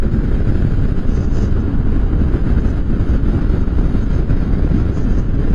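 Constant heavy wind roar buffets the microphone, a dense low rumble with no breaks, like riding at speed on a motorcycle.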